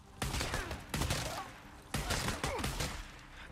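Heavy shotgun blasts from Days Gone gameplay, about four loud booming shots spaced irregularly across a few seconds, each with a short ringing tail, close and dominant with no talk.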